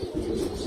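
A pure old-bloodline pigeon gives a brief low coo, close and steady, lasting under a second with no voices.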